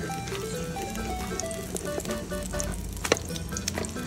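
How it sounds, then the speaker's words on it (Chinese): An egg frying in a pan while being cooked through, a steady crackling sizzle with small spattering pops and a few scraping clinks, close by and fairly quiet. "那这个我要把它煎全熟"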